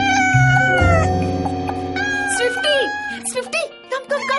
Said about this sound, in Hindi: ये बिल्ली को घर में क्यों लाना चाहती हो?